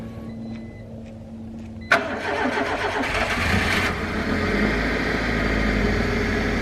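A car engine cranks and catches, then settles into a rumbling idle, close and loud.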